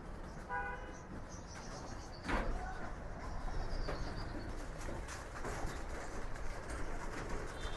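Pigeons coo softly in a loft while a steady background din runs underneath, with occasional horn-like toots and a brief chirping at the start.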